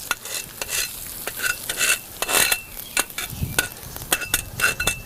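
Melted butter is poured over a steak, setting off bursts of hissing sizzle mixed with light clinks of cutlery and pan, loud and close with no talking.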